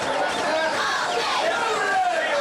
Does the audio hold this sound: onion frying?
no